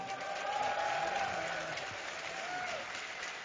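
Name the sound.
audience cheering and making noise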